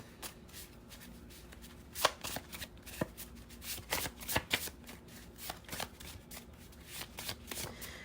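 A tarot deck is shuffled close up in a quiet room, with quick papery riffles and a few sharp snaps as cards fall, no talk.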